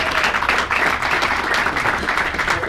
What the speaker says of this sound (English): A big round of applause for John Dacosta,